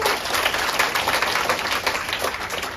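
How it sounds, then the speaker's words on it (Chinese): An audience at an indoor business talk applauds, a steady wash of many hands clapping at moderate volume, continuous throughout without talking. "给他掌声鼓励一下好不好？"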